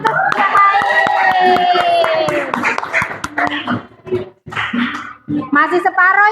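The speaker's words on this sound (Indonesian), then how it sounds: "Oke, tepuk tangan untuk yang lain." Students clap together in a classroom, a brisk scattered patter of hands running under a teacher's voice and classroom chatter, fading briefly before picking up again.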